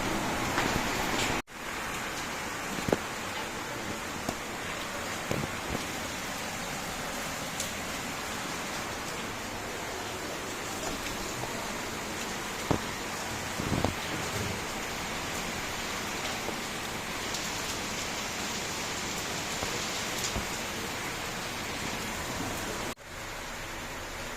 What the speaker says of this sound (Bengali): তারাও বাইরে বৃষ্টিটা দেখি একটু তোমার সঙ্গে শেয়ার করতে পারিনি